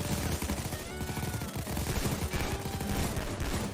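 Dense, continuous gunfire in the heist shooter PAYDAY: Crime War while shooting out a security camera, a busy fusillade of overlapping shots with no talking.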